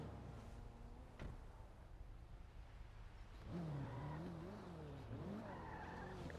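Cars in the GTA NoPixel roleplay game drive past, with engine tones rising and sweeping as vehicles move by, growing louder and closer in the second half. No one talks.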